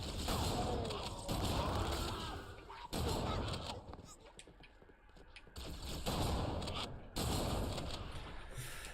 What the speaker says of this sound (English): The shotgun is surprisingly efficient at killing the alien gits, which is nice.